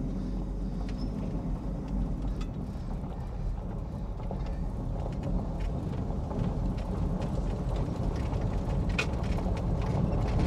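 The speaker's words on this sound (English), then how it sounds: "All the stuff behind me is making a ton of noise. I'm sure it's what you guys are hearing, all the creaks and cracks" A 1959 Chevrolet Biscayne driving down the road, with a steady engine and road rumble under scattered creaks, cracks and rattles of loose parts inside the car, sustained throughout with no talking.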